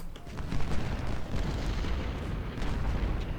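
Continuous rumbling battle noise from the Civil War strategy game Ultimate General Civil War, with dense overlapping gunfire and distant cannon booms blending into a steady, muffled roar and no standout shots.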